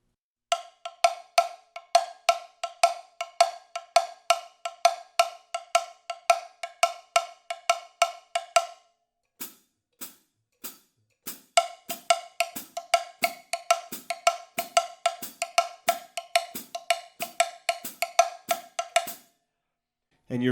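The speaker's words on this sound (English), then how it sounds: "Cascara means, I believe, shell, and that's usually played on the actual shell of the timbali." A cascara pattern for rumba guaguancó played with a stick on the metal shell of a timbale, crisp bright clicks in a steady syncopated rhythm, pausing briefly midway before resuming, with no talk over it.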